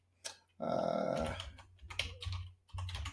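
Fast bursts of typing on a computer keyboard, close and fairly quiet, with short pauses between runs of keystrokes.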